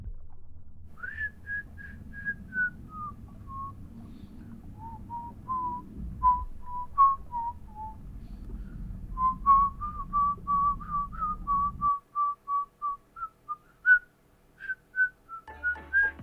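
Melodic whistling of the OMORI music theme, a clear tune of held and sliding notes carried over a low background rumble that drops away near the end, leaving the whistle alone with a few short bursts.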